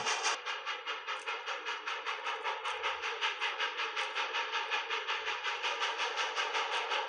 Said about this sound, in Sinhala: ඔන්න මේක තමයි ලෝකෙ වේගෙන් යන කෝච්චිය